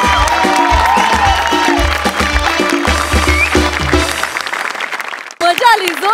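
Applause and cheering from a live Marathi comedy show audience, loud and sustained crowd clapping under a speaking voice and music, fading briefly near the end before a short burst of sound returns.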